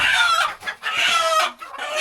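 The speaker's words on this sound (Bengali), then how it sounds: "কে ধরবে মুরগি?" Chickens squawk and cluck loudly and close by as they are chased and caught, letting out three agitated bursts of calls in quick succession.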